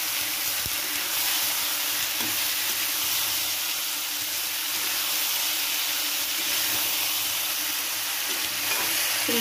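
Broken wheat (daliya) sautéing in a pan for a green moong dal tehri, giving a steady, close frying sizzle and hiss throughout with a few faint clicks and no talk.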